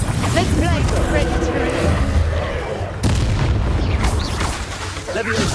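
Bombarda blasting spell in Hogwarts Legacy going off as heavy booming explosions during a fight with poachers, loud and continuous with a sharp burst partway through and a voice over the din.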